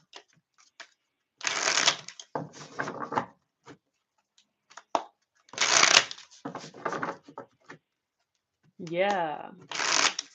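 A deck of cards is shuffled in several quick riffling bursts with short pauses between them, close and crisp, while a person speaks briefly in between.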